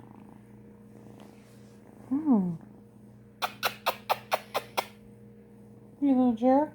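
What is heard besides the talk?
kitten purring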